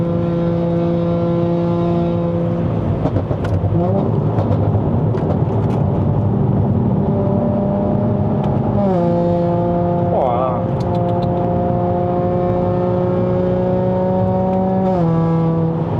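A Mercedes-AMG C43 4Matic (W205) accelerates with a loud, steady engine drone close by. Its pitch climbs and steps with each gear change, and a voice speaks over it in places.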